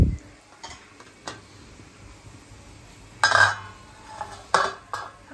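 Ghee in a cooking pot during home curry preparation gives a faint background hiss. Sharp bursts of sizzling and metal clatter break through it every second or so, close by.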